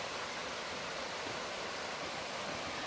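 Steady broadband rush of a waterfall heard outdoors, continuous and even with no breaks, moderately quiet and with no voices over it.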